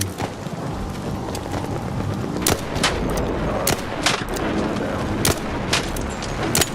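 Gunfire in the game Arc Raiders, a string of sharp shots at irregular intervals over a dense, rumbling background of game noise.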